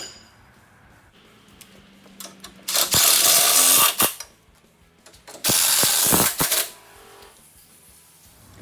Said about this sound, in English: do not forget to tighten your 10mm bolt that you loosened from your sway bar